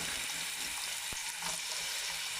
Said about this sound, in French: Je mets de l'oignon et de l'ail. Je vais faire revenir dans l'huile comme ça, tranquillement.